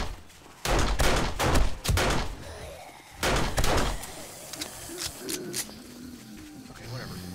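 Pistol gunshots in the 7 Days to Die video game: a quick cluster of sharp, loud cracks, a pause, then two more close shots before quieter game ambience.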